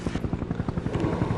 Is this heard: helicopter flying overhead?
yes